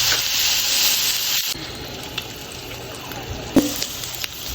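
Running tap water splashes steadily over steak being washed in a kitchen sink, a continuous bright hiss that breaks off abruptly partway through and then resumes more quietly with a few small knocks.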